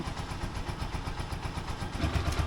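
A motorcycle engine idles close by with a steady, rapid pulsing throb that swells slightly louder near the end; no talking.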